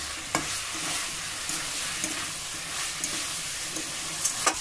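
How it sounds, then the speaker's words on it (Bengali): Jackfruit curry with tomato sautéing in a pan, a steady close sizzle broken by occasional spoon scrapes and clicks, with no voices. "খুব ভালো করে কষিয়ে নেব টমেটো দিয়ে"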